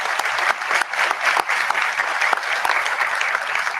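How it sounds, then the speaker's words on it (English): Full, continuous applause from an audience at a community forum on opioids, loud and steady for the whole span with sharp individual claps audible within the crowd. "it's very worthy to give them a great round of applause."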